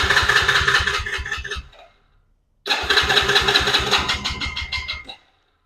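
A 110cc Chinese ATV engine cranks and briefly fires in two close, loud bursts of rough, pulsing engine noise separated by a short silence, with no talk over it.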